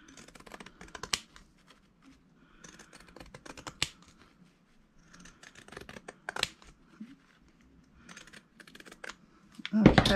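Pinking shears snip through fabric while a soft cover for a nature journal is being made, giving close, crisp bursts of crunchy cutting clicks in irregular clusters with quiet gaps between them, ending with a louder rustle.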